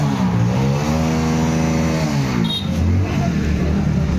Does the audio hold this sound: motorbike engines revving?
yes